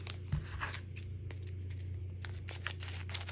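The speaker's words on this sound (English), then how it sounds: "I hate using scissors because I don't want to cut the cards" Scissors snipping open a Pokémon card booster pack, a few quiet crisp cuts and crinkles of foil packaging up close.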